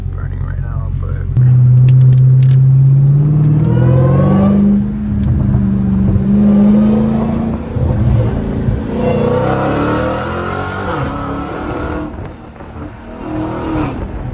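A Hellcat Redeye with a freshly fitted 3-inch catback exhaust and 5-inch tips revs hard: a deep, loud rumble climbs and holds, then falls into a rough idle with more blips, while people talk over it.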